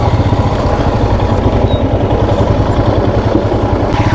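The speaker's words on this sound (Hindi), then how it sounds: "पूरा बाइक फ्लोट कर रहा है ये पत्थरों पे" A motorcycle rumbles continuously over loose stones and pebbles on a rough mountain track near Killar, Kishtwar, loud and close. A steady engine drone runs throughout with faint clatter beneath it.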